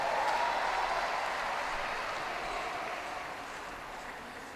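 Sustained crowd applause from home fans at a gymnastics World Challenge Cup in Mersin, a broad steady wash of clapping and cheering that fades slowly over a few seconds.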